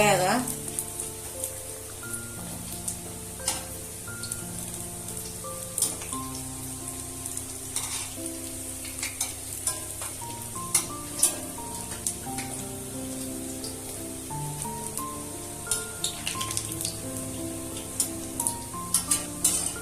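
Medu vada deep frying in hot oil, a steady close sizzle with frequent crackling pops and bubbling bursts scattered throughout, continuing without pause for about twenty seconds.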